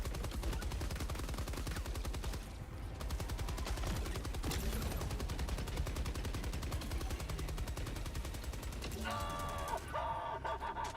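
Gunfire in a video game: rapid, sustained automatic fire rattles continuously and loudly throughout, with brief shifts in intensity and a short mechanical tone near the end.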